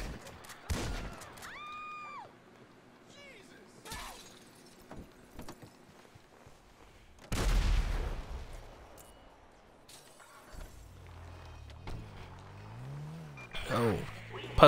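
Gunfire and a tank explosion in the GTA V video game: a few sharp shots early on, then a loud burst with a rumbling blast around the middle, followed by engine and siren-like game sounds.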